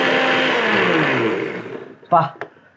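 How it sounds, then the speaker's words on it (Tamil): Mixer grinder blending a buttermilk drink, a loud whirring motor that runs for about two seconds, then winds down and stops, followed by a couple of brief clunks. "மிக்சியில் போட்டு நல்லா அடிச்சுட்டு வடிகட்டி கொடுத்தா செம்மையாக இருக்கும்"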